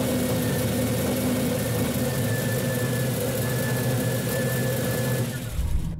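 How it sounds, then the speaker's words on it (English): A repaired car engine idles steadily and loudly with an even mid-to-low rumble, running alone without talk and dipping briefly near the end. "that thing sounds a lot better"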